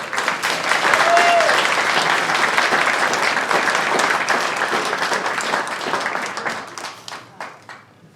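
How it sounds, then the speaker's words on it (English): Hearty applause from wedding guests for Amelia, the young ring bearer, with dense clapping and a few cheers holding steady before tapering to scattered claps at the end. "Give Amelia a wee round of applause"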